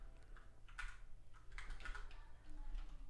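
Someone types on a computer keyboard in quick, irregular clusters of soft key clicks with short pauses between bursts, close and fairly quiet against a low background hum.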